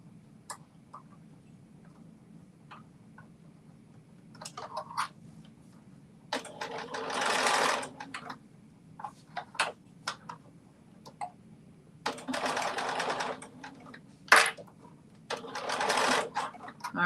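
A sewing machine stitches see-through fabric in several short bursts of rapid mechanical whirring, separated by quiet pauses and small clicks, close and clear.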